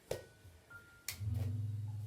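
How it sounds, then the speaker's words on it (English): A single sharp hand clap comes near the start, followed about a second later by a second sharp slap or catch during a seated chair ball-toss exercise, then a low steady hum. No one speaks. "So toss, clap before you catch."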